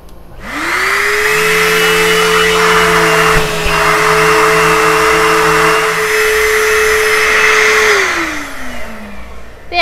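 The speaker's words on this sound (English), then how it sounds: "I would highly recommend if you're doing this in the house to have a vacuum cleaner attached to your sander." An electric sander with a wet/dry vacuum hooked up runs steadily while sanding paint indoors, a loud continuous motor whine with a rising start and falling spin-down near the end.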